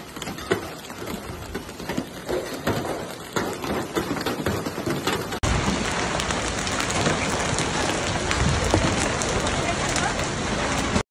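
Heavy rain and hail pelting down during a violent storm in Spain, with scattered sharp impacts at first and then a loud, dense, continuous roar of rain and hailstones.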